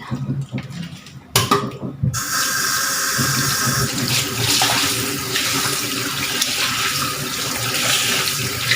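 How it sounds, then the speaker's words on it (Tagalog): Tap water running steadily into a kitchen sink while food is rinsed for a home-cooked dinner, a continuous close splashing hiss after a few brief knocks and handling sounds. "Hugasan natin mabuti."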